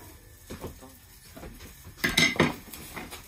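Eggs being beaten in a bowl for egg fried rice: faint scattered taps at first, then a quick flurry of clinking utensil strikes against the bowl near the end, close and fairly soft.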